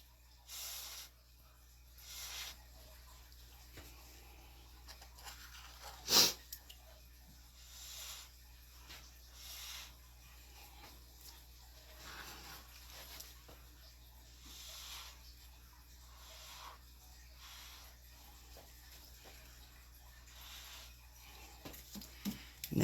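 Breath blown onto wet acrylic pour paint with cell activator, a series of soft airy puffs and hisses, close and quiet, repeating irregularly with one sharper burst.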